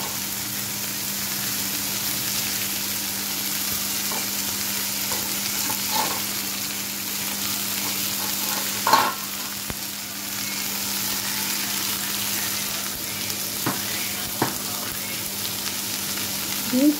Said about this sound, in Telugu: ఫ్రై చేస్తున్నానండి, అంటే తాలింపు లాగానే